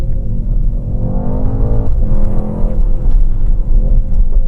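Mercedes-AMG car engine while driving, a rough, steady low rumble that holds loud and continuous throughout, with slight shifts in pitch as it pulls along.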